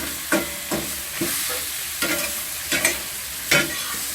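Half-cut chicken wings with garlic and fermented black beans fry in a pan, a steady sizzle broken by several scraping stirs at irregular intervals, close and alone without talk.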